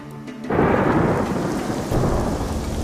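Heavy thunder rumbles over a steady roar of torrential rain in the Andes around Machu Picchu, the downpour loud and continuous after a sudden swell.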